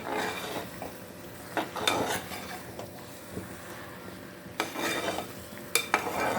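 Mango cooked down with jaggery and ghee is stirred in a pan, giving a steady soft sizzle broken by scraping strokes and a few sharp clinks of a utensil against the pan, with no one talking.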